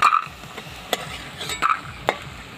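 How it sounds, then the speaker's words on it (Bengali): Bori lentil dumplings fry in hot oil, giving a faint sizzle broken by a few sharp scraping stirs and clinks of a utensil against the pan. "লাল করে ভেজে নিলাম বড়িটাকে।"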